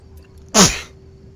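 A single sharp sneeze bursts out close by in a Thief playthrough, standing alone against a quiet background hum.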